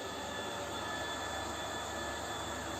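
An electric water pump runs at home to send water upstairs, a steady, even roar and hiss that holds without a break throughout.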